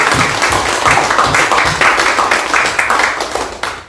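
A church congregation claps together during a live worship service, a dense, steady patter of many hands that fills the space evenly and fades slightly near the end, with a faint voice underneath.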